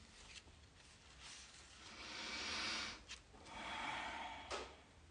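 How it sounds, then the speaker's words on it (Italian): A slow, deep breath during a guided peace and healing meditation, two long soft airy swells of inhaling and exhaling with brief sniffs between, quiet and close, with no talking. "Fai un respiro profondo, per favore."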